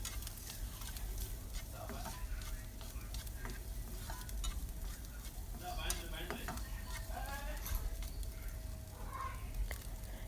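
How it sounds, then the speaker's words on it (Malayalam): Chopped boiled egg frying in a pan for egg Mughlai street food, giving a constant crackling sizzle with occasional stirring clinks, steady and close throughout. "ഇനി ചെറുതായിട്ട് ചോപ്പ് ചെയ്ത ബോയിൽഡ് എഗ് ഒന്ന് നന്നായിട്ടൊന്ന് ഫ്രൈ ചെയ്തെടുക്കാം"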